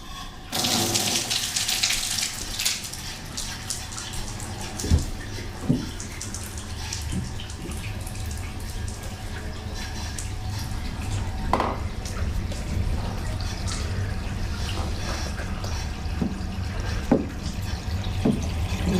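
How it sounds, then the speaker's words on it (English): Water pours from a tap into a freestanding bathtub during installation, a loud, steady rushing stream heard up close with occasional knocks and clunks over it. "what we're just going to do right now is run water and check for leaks"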